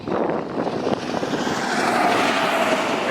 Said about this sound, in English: Ignore the tractor trailer.